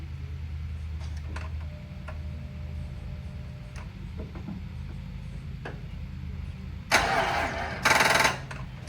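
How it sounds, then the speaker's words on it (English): A swapped Hemi engine in a G3 vehicle cranks on its first startup attempt after a rewire, a rough mechanical grinding that rises into two louder bursts of turning over near the end without catching. "this is the first startup since the rewire. Let's see what happens. Either starts or it doesn't."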